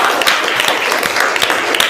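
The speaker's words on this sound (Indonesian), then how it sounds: "Tepuk tangan buat kita semua." Schoolchildren in a classroom clap together in a dense, loud burst of applause that lasts the whole short moment.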